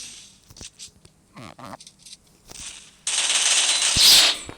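Gunfire in the Free Fire video game: scattered single shots and short bursts, followed by a dense, loud sustained stream of rapid automatic fire.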